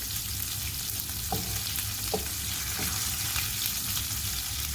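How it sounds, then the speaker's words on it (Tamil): Kingfish fillets fry in oil in a nonstick frying pan, a steady broadband sizzle running throughout with a few brief clinks or scrapes of a utensil, close and alone with no talking. "நான்ஸ்டிக் ஃப்ரை பேனில் நம்ம ஃப்ரை பண்ணுறதுல நமக்கு மீன் உடையாமல் நம்ம எடுக்கிறதுக்கு ஒரு வாய்ப்புகள் இருக்கிறது"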